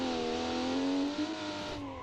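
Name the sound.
inline 6 turbo wagon engine revving in video game BeamNG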